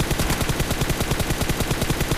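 Rapid gunfire in the mobile battle royale game PUBG Mobile, played on an iPad, attributed to the AWM sniper rifle. It comes as a tight, even string of sharp, punchy shots, loud and close, with no talk over it.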